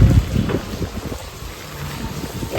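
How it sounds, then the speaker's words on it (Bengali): Strong wind blowing outdoors, a loud rough rumble buffeting the microphone, gusting hardest at the start and then settling into a steady roar. "আজকে মনে হয় বেশি হাওয়া টাওয়া দিচ্ছে"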